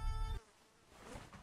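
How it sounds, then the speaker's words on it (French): A housefly buzzes close by in short, faint bursts, its whine starting loud and then fading to a quiet drone as it circles. "Depuis que je tourne, il y a une mouche qui me tourne autour, ça me gonfle!"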